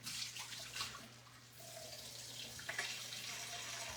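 Half a cup of water pours from a cup into browned ground meat for shepherd's pie, a steady close splashing trickle running for about four seconds with a low hum beneath it.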